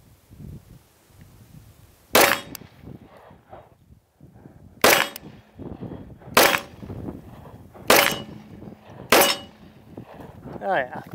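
A pistol loaded with Accurate No 7 powder fires five sharp, loud shots at steel targets, spaced a second or two apart, with quieter handling sounds and faint activity between them.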